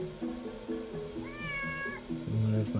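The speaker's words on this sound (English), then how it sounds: "And there's my cat Marceline." A pet cat meows once, a clear drawn-out cry with a slight pitch bend, close and fairly loud, over a background of soft music.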